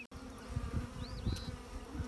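Honey bees swarming around small hives set in big boxes during hive work outdoors: a dense, continuous buzzing drone close by, with individual bees whining past now and then.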